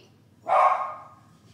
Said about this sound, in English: If you can hear the dogs, I'm sorry.